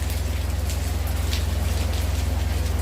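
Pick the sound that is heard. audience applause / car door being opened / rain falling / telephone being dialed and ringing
rain falling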